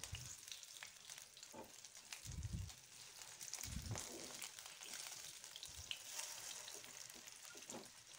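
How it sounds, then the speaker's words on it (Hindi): Rohu fish frying in a pan over a high flame, a steady close sizzle with scattered pops and occasional low bumps of the pan throughout. "हाई फ्लेम रे माछ को भल भाबरे टिके कड़ा करी भाजी नबा"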